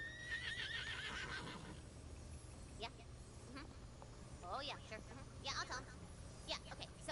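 Butt Stallion, the horse from the video game Wonderlands, gives a wavering whinny at the start, followed by scattered squeals and snorts. A voice talks over the sounds throughout.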